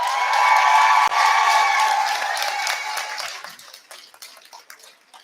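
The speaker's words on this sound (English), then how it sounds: "can you please, by a round of applause, show your appreciation for your family and friends who've supported you through your studies?" Applause from a graduation ceremony audience, steady dense clapping at first that thins out and fades over the last couple of seconds, with scattered claps trailing off.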